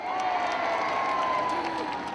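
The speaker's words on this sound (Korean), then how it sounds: "오랜만에 이 함성을 들어보네요" A festival crowd at the Incheon Soraepogu Festival cheers and shouts steadily, a dense, sustained roar mixed with some applause, with a faint high whistle-like tone running through it.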